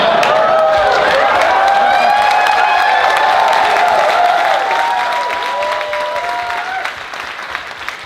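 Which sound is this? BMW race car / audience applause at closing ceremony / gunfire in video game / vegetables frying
audience applause at closing ceremony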